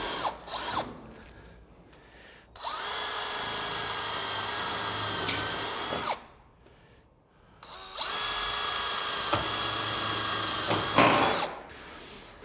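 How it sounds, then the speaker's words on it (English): A powered rivet tool drives rivets through gable trim into metal R-panel roofing, two long whirring runs of several seconds each with a mechanical ratcheting edge, separated by short quiet pauses with faint handling clicks. "we're gonna put 2 or 3 rivets in here to hold this and pin it up against our nice and tight"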